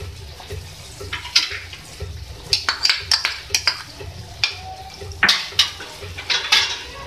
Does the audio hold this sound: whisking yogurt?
yes